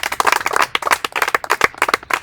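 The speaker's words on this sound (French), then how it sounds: "Est-ce que nous pouvons l'applaudir?" A children's audience gives a short burst of clapping for a student, quick uneven claps close by, lasting about two seconds.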